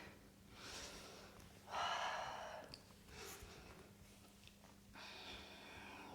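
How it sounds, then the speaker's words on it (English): Slow, deep yoga breaths during a vinyasa flow for hamstring and hip flexibility come as several close, airy inhales and exhales with pauses between them, and no one speaks. "Breathing in, breathing out."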